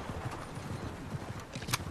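A horse's hooves clip-clop in a quick, even rhythm of soft thuds, close by, with a brief sharp high burst near the end. No one speaks.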